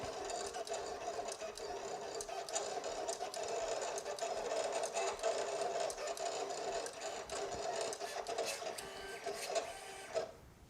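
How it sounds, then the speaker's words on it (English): A Silhouette Cameo 4 vinyl cutter runs steadily, its carriage whirring and buzzing with fast rhythmic clicks for about ten seconds, close and loud, then stops abruptly near the end. "it's slow, but it's not the slowest cutter around. It's definitely, in my opinion, faster than the Cricut."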